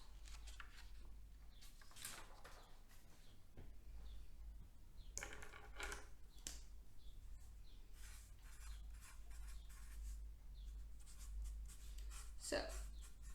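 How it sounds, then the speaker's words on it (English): Pen or marker scratching out notes by hand, intermittent faint strokes and taps at close range, with a low steady hum and quiet background behind them. "So let me write this out."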